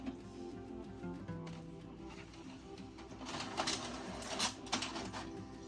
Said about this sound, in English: So now the printer will print a test page.